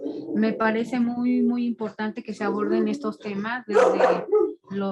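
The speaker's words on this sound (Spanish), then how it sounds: "ay, perdón por mis perros" Pet dogs bark and yip in the background of a home setting, partly buried under someone speaking continuously in the foreground.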